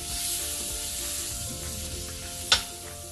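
Butter sizzling steadily in a hot pan as the first step of a spaghetti sauce, a continuous close frying hiss with a brief louder crackle near the end.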